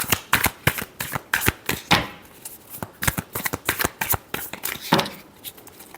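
Tarot cards are shuffled by hand at close range: rapid, crisp riffling bursts and snaps repeat in a quick, uneven rhythm throughout, with no talking.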